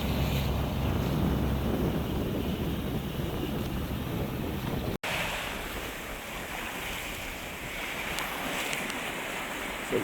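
Steady rush of wind and water while a sailboat runs on a broad reach in about 15 knots of breeze, a continuous loud roar with wave wash and microphone buffeting throughout.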